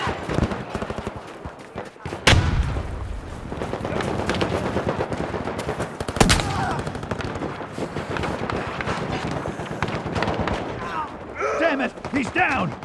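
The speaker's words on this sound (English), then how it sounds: "Throwing a grenade!" Gunfire and a grenade blast in the shooter game Battlefield 2042: dense, steady rattling shots with two sharp, heavy explosive bursts, loud and close, while in-game voices shout callouts.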